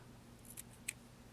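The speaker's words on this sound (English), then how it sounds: "I'm going to snip my yarn." Scissors snip through yarn while finishing a crocheted cuff-down sock, two quiet crisp cuts close by in a hushed room.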